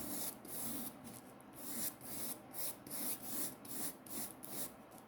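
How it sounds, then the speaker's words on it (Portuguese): Sandpaper scrapes across the freshly cut bristle tips of a paintbrush in quick, rhythmic back-and-forth strokes, a close dry rasping repeated about every half second with no voices. "O último passo é lixar. Eu gosto de lixar na parte mais fina."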